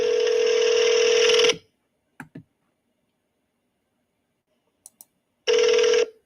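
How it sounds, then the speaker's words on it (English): Telephone ringback tone on a call later forwarded to voicemail: two steady buzzing ring bursts separated by a silent gap with a few faint clicks in between, close and clear. "So maybe he hung up that one because it didn't finish ringing."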